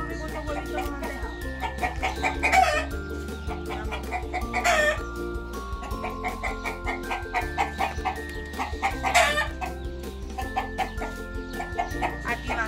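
Chickens on a small farm cluck and chatter steadily, with a rooster crowing loudly several times across the stretch, all close by and without talk.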